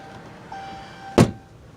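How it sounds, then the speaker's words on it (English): A car door on a 2016 Chrysler 200S shuts with a single sharp, solid thud up close after a faint electronic chime, the cabin quiet around it. "Now let's close the door."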